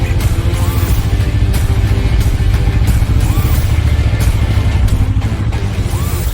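Sidecar motorcycle engine at low speed, close and steady, a continuous loud drone throughout while the rider practises lifting the sidecar wheel.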